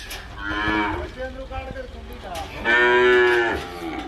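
Limousin breed cattle calves mooing loudly and close by, two long drawn-out moos separated by a short pause, with no talk over them.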